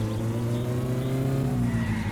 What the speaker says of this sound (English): Do a little drifties around the town.